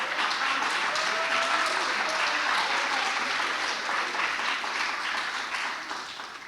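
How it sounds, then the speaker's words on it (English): An audience at an oratory competition claps in a sustained, even burst of applause that fades slightly toward the end, with no voice over it. "Well, y'all clap."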